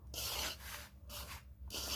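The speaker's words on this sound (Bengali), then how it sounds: "জোয়ানটাকে হাতের মধ্যে একটু ঘষে তারপরে আমি দিয়ে দিচ্ছি জোয়ানটা" Carom seeds (ajwain) rubbed between the palms, three quick dry rasping bursts in a steady back-and-forth rhythm, close and soft with no talk.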